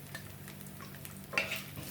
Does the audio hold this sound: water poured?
no